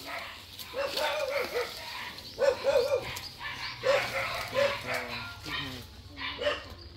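Several dogs bark repeatedly from somewhere nearby, beyond an overgrown back garden in rural Vietnam. Their yips and bow-wows come in uneven bursts with some whimpering mixed in, and a person talks over them in the foreground.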